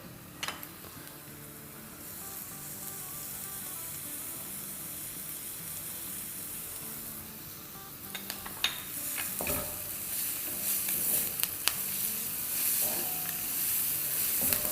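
Green chilies and ginger sizzle in hot oil in a pan for a dal, with steady stirring scrapes and bursts of spitting fry that grow livelier partway through. No voices.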